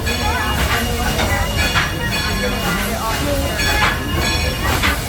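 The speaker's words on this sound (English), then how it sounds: "as the train rolls to a stop here in the depot" A coal train rumbles along with hissing and metallic wheel squeals and clicks, slowing to a stop at a depot in Tennessee, with a low murmur of voices beneath.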